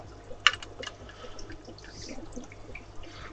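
Water is poured into a fish tank during a water change, giving quiet splashes and trickles with a sharper splash near the start, then a soft ongoing dribble, with no talk.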